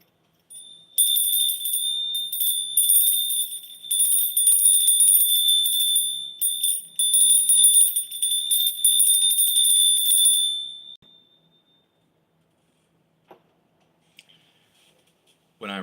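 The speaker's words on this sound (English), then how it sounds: "When I ring the bell, it's to bring some people's attention" A hand bell rings rapidly and continuously for about ten seconds with a bright, high metallic tone, then stops, leaving near silence broken by a few faint clicks.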